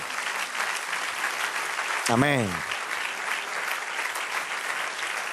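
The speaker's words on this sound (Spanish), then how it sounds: "Denle un aplauso al Señor." A church congregation applauds during a sermon, a thick, continuous roar of clapping from many people, with a single voice briefly calling out partway through.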